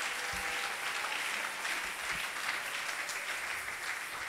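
A church congregation applauds steadily throughout, a dense, even wash of many hands clapping at moderate distance with no break.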